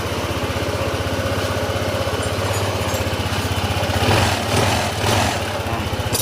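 A motorcycle engine, its earlier odd engine noise gone, idles close by with a fast, even putter, then is briefly revved a couple of times before settling back.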